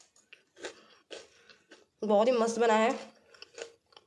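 Crunchy homemade bhel being chewed up close, with short crisp bites and crunches at the start and end and someone speaking briefly in between.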